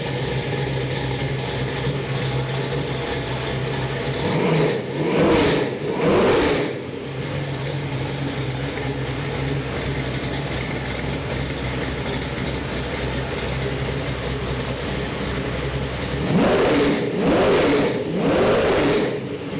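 Chevy 383 V8 on a test run with a Holley 750 CFM carburetor, producing about 475 hp. A loud, steady idle is broken by two pairs of sharp revs that rise and fall.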